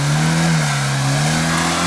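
A car in low gear pulls hard through rain-soaked mud and sand, its engine revving loud and close in a sustained, straining roar that shifts slightly in pitch.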